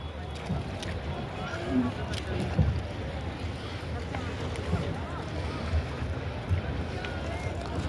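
A boat ride on the river at Prayagraj during the Magh Mela brings a steady low rumble of water and engine with wind buffeting the microphone, while people talk faintly in the background.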